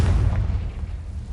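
A Confringo spell blast in Hogwarts Legacy lands as a heavy, booming explosion with deep low-end rumble that decays over a second, close and loud with no talking.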